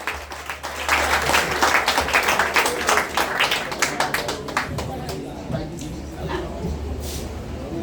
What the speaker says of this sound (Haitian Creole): Les amis, applaudissez à ça,